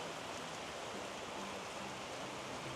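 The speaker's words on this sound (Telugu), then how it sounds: "చాలా హెవీగా వర్షం పడుతుంది" Heavy rain pours down in a dense, even roar that stays constant throughout, with no voices.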